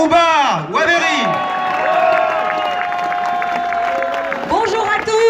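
Outdoor crowd at a street demonstration applauding and cheering, with whoops over the clapping and a loud voice that swoops and wails through most of it.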